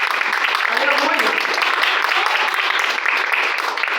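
An audience applauds continuously, a dense, even wash of clapping that stays loud throughout.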